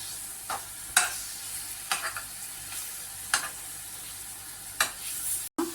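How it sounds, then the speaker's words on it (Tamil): Banana pieces frying in honey and ghee, a steady soft sizzle with occasional sharp scraping stirs of a spoon in the pan, close and alone without voices. "அந்த தேன்லேயும் நெய்யிலையும் வாழைப்பழம் வந்து நல்லா ஃப்ரை ஆயிடுச்சு"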